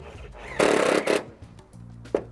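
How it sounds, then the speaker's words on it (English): A power driver briefly whirs as it sets fasteners through the front lip of an eaves trough into the fascia board, giving two close bursts and then a short final tick. "We screw it both in the front lip of the eaves trough as well as to the fascia board."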